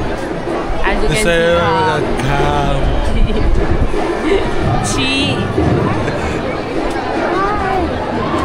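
Dense crowd hubbub fills the grounds of Tuljabhavani temple, a steady near wash of many overlapping voices and chatter, with a few clearer voices rising briefly above the babble throughout.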